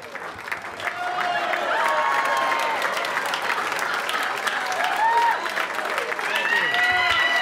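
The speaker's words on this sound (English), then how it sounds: "give a round of applause for Garry Shandling" Studio audience applause for comedian Garry Shandling, a loud sustained wave of clapping with scattered cheers and whistles, steady from start to finish.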